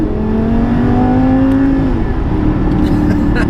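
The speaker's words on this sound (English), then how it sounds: "I think the car sounds like it's working harder than it is." A Lamborghini Super Trofeo race car engine roars close by, its pitch climbing in a rising whine before easing off, loud and continuous.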